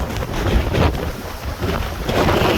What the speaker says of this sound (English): So friggin' windy, bonsais are trying to hide behind the wind here.